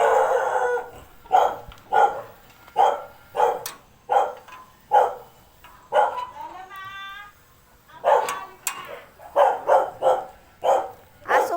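A dog barks repeatedly in a steady rhythm of sharp, loud barks at close range, with a brief break partway through and faint voices in the background.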